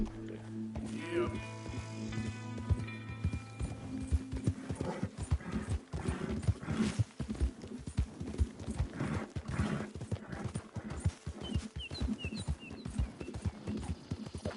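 Horse hooves clip-clop steadily in Red Dead Redemption 2, a rapid rhythmic galloping beat with a whinny near the start, running under continuous talk from players.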